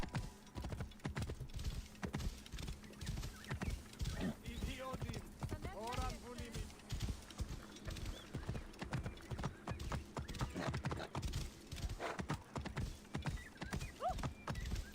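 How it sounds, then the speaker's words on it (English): A horse in the game Assassin's Creed Origins trots along with a steady, continuous clip-clop of hooves over several seconds, a brief whinny in the middle, and a voice talking over it at times. "I'm gonna take my horse inside"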